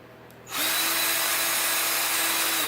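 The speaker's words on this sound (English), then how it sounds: "I take another drill bit about the size of the first one on the step there, and I drill all the way through." Drill bit boring through a round steel bar during a homemade game cart build, starting after a short quiet moment and then running as a steady, loud, close whine with a constant motor tone for the rest of the clip.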